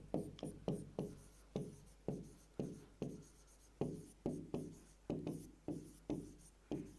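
A manometric equation is written by hand on a board during a fluid pressure lecture. Quick, regular strokes and taps scratch along steadily, close and moderately loud, with no speech over them.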